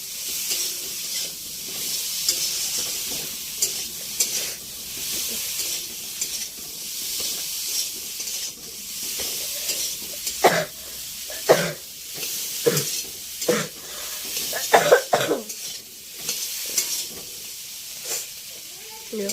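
Food fries in a pan with chilli powder added, a continuous sizzle broken by scraping stirring strokes and clatters, with bursts louder toward the end and occasional voices nearby.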